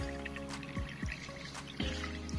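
Muddy water pumped up from a tilapia pond trickles and splashes into a container, a close, continuous dribbling flow with a low pump hum and a few soft drips, without talk.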